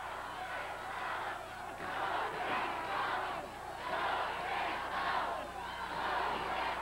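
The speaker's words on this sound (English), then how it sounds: "Crowd is exhorting Benoit, but this will be very difficult for him to escape this crunching bear hug." Arena wrestling crowd cheering and roaring in surging waves during a bear hug hold, loud and continuous with rhythmic swells, a commentator's voice faintly mixed in.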